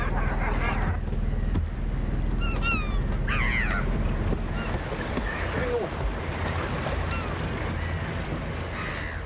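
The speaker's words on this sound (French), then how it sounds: "un îlot où nichent des milliers d'oiseaux de mer, groupés en grandes colonies très bruyantes" A noisy colony of thousands of northern gannets nests on a small island off a boat, giving harsh, overlapping calls over a steady low rumble of engine and sea.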